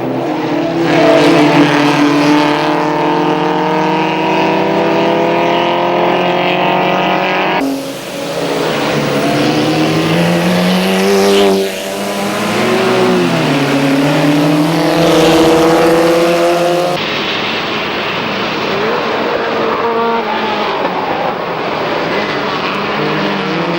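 Historic race cars, an Alpine A220 and a Lotus Elan, battle at a 1989 golden-age Grand Prix, with loud engines droning and shifting pitch as they rev and change gear, abrupt cuts between passes.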